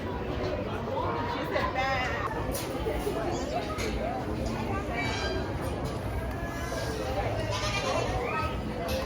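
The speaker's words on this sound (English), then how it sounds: "We're walking through the goats." Goats bleat repeatedly among farm animal pens at a county fair, several calls rising over a steady crowd murmur, with people chatting nearby throughout.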